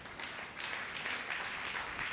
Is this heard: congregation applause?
yes